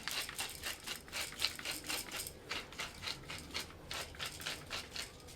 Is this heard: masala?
no